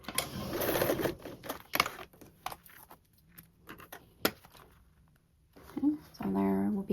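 A sewing machine stitches through webbing in short bursts separated by pauses and clicks, ending with a rapid run of stitches; a person talks quietly between runs.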